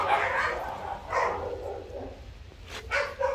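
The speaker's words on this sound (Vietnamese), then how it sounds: "Ba con chó con của Sẹo với này lòi đây." Young puppies yap and whimper up close in short, high bursts scattered across a few seconds, with faint background noise beneath.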